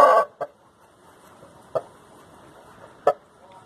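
A large rooster, about 1.2 m tall, gives a few short, sharp clucks spaced about a second apart against quiet background noise.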